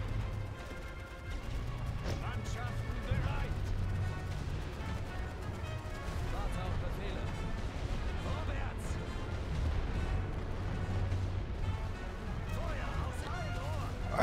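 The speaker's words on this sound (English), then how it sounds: "them mortars do so much freaking damage" Mortar artillery in the First World War strategy game The Great War: Western Front booms and crashes repeatedly amid ongoing battle noise, with a voice talking over the top.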